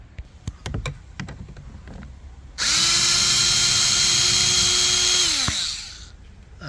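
A power drill unscrews a Torx 30 screw from the door panel of a 2011-2018 Porsche Cayenne, giving a loud, steady whine of about three seconds that spins down, after a few light taps and clicks.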